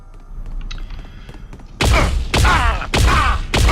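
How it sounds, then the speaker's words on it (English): The Link Gun in a pre-alpha build of Unreal Tournament fires plasma bolts: after quiet mechanical clicks, four loud, sharp discharges with buzzing, warbling tails come at a steady rhythm. "The primary fire mode of the Link Gun fires high-speed plasma bolts."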